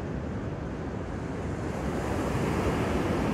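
Ocean waves rolling in and breaking on a beach on a sunny day, a steady loud wash of surf with wind, swelling slightly louder toward the end.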